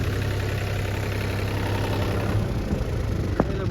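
A Massey or New Holland tractor stuck in mud runs with a steady, loud diesel rumble close by, with a brief knock near the end and no voices.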